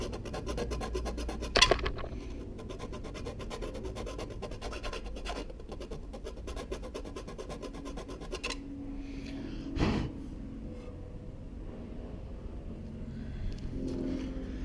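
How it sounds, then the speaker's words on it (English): A round file rasps against an aluminium number plate for a Toyota 86 GTS, producing close, irregular scraping strokes with a few sharper knocks in between. "We're going to try a round file."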